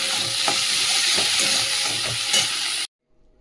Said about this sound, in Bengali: দিয়ে তো ভালো করে ভেজে নেবো।